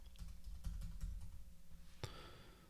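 Rapid typing on a computer keyboard, a busy run of close, crisp key clicks with a brief pause and a sharper clack near the end, heard alone without talk.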